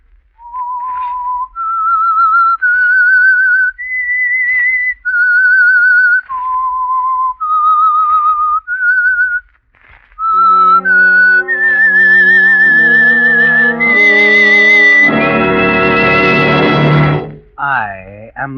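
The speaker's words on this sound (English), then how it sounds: "That whistle is your signal for the Signal Oil program" Whistled theme of the 1948 radio drama The Whistler: a lone, clear whistle rising and falling through a slow, eerie melody, then swelling into a loud sustained musical chord.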